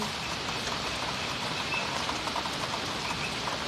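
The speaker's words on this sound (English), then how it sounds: "Rainy sound." Steady rain, a dense, even hiss of drops on a surface that stays constant and fairly loud throughout, with no talking.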